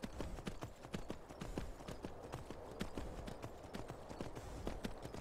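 Horse hooves gallop in the Skyrim video game, a steady rapid clip-clop of repeated hoofbeats that runs continuously at an even, moderate level throughout.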